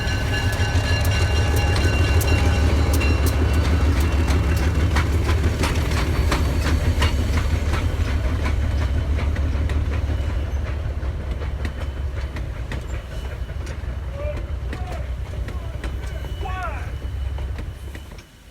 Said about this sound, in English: the regular train shows up with 107 and 493 both powering it